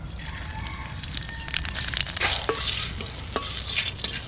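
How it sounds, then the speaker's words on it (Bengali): Black cumin seeds sizzle in hot mustard oil in a wok, a steady close crackling fry with a few sharper spits and pops throughout. "কালো জিরে ফোড়ন,"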